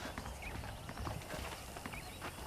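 Horse hooves clip-clop at a steady walking rhythm in the Red Dead Redemption video game, soft and somewhat distant, with no talk over them.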